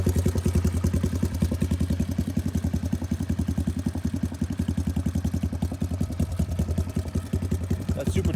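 A 1983 Honda ATC185S three-wheeler fitted with a 200S motor and Super Trap exhaust idles close by, giving a loud, steady, rapid thumping pulse with metallic clatter throughout.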